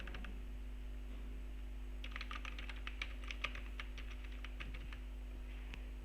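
Keystrokes on a computer keyboard while HTML code is being typed, a quick irregular burst of light clicks lasting a few seconds over a steady electrical hum, close to the microphone, with no speech.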